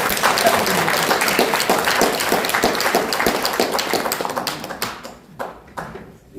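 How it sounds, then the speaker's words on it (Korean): An audience at a newspaper's 20th anniversary ceremony claps in a dense burst that thins out and fades to a few scattered claps near the end. "여러분 응원의 박수,"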